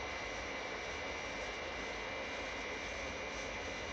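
A jet airliner's engines roar in a steady, unbroken wash of noise from a 1967 Captain Scarlet television episode, a moderately loud cabin-like drone with no other sounds.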